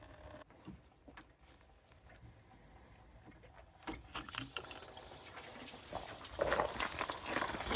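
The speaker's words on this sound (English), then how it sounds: "let's drain this radiator" Water-like coolant drains from the radiator of a Toyota Tundra with a 2UZ-FE engine, a soft trickle that swells into a steady, louder splashing pour by the end.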